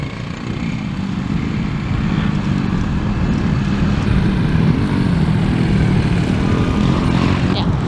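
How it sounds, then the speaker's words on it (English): A motocross dirt bike revs up and pulls away, its engine drone rising slightly and holding steady as it rides off, fairly loud and continuous with a faint voice. "You hear the motor going up a little bit. Slowly let another clutch, and away she goes."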